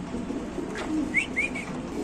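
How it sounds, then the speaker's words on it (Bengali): An exhibition pigeon gives a short, soft coo, a couple of quick rising notes over faint room noise. "সো এখানে আছে এক পিস এক্সিবিশন কবুতর"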